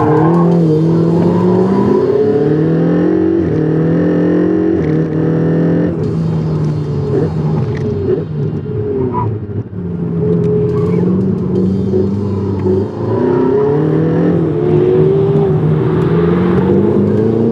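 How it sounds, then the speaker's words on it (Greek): A Ferrari 488 GTB V8 engine revs and accelerates hard through rising and falling gear sweeps, loud and close from inside the car, with a voice over the engine note. "Αυτός ο V8 έχει βραβευθεί 3 συνεχόμενες φορές ως ο καλύτερος κινητήρας της χρονιάς"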